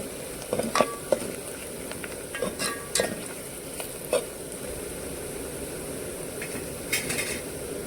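Soft steady sizzling of spices and a pinch of turmeric frying in hot oil for a tempering, with occasional spoon clinks and scrapes against the pan.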